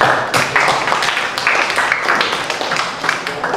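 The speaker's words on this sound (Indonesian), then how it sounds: "kita kasih tepuk tangan" Students in a classroom give group 1 a round of applause, a dense, steady patter of many hands clapping close by for several seconds.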